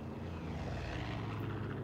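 A propeller airplane engine in the video game Far Cry 5 drones steadily and close, a constant low roar with no breaks.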